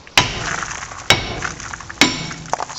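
Three sharp metallic smacks, evenly spaced about a second apart, strike a rusted front brake disc on a Peugeot 206, each one ringing briefly with a clanging, glassy tail.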